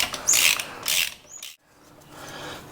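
Allen key or socket unscrewing a brake pin on a Honda Goldwing motorcycle: bursts of rapid ratcheting clicks, two loud close runs followed by a brief pause and softer mechanical scraping.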